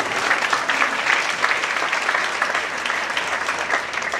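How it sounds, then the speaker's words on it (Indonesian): A church congregation at a GBI service claps steadily and loudly for about four seconds, a dense even wash of hands with no voices over it. "Kita berikan tepuk tangan bagi Tuhan."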